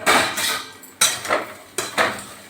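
Metal lid lifted off a pot of cooking sabu (sago) pulao in a home kitchen, giving three sharp clanks, each followed by a short ringing rattle, spaced about a second apart and close by.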